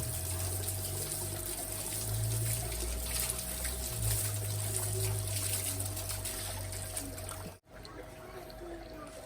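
Water runs and trickles steadily while aquarium filter media from the first chamber of a DIY filter tank is washed, with a low pump-like hum underneath, until a brief cutoff near the end.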